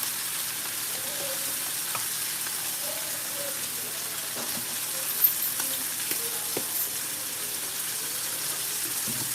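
Chow mein noodles with vegetables stir-frying in a pan, a steady soft sizzle throughout with occasional faint clinks and scrapes of stirring, fairly quiet and without talk.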